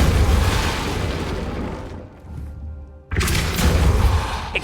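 A Depulso spell cast in Hogwarts Legacy bursts out as a loud, dense boom that drops away into a quieter lull, then hits again with a second forceful blast near the end, with no talk over it.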